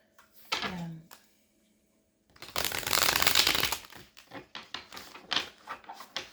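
Tarot cards being shuffled close by, a brief riffle followed by a longer flurry of papery flicks and soft taps, fairly quiet.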